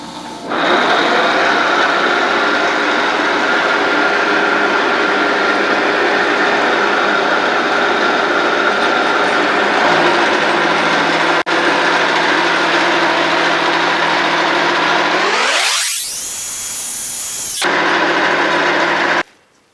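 A milling pass taking off 2 mm runs loud and steady for most of the stretch, a continuous grinding machine tone with a motor hum. Near the end it winds up sharply in pitch, holds, then stops abruptly.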